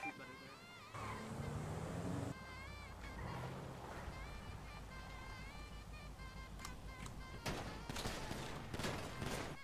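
Bursts of gunfire in the video game GTA amid a police chase, rapid popping volleys near the end over a busy game soundscape of engine and water-like rumble, with voices talking throughout.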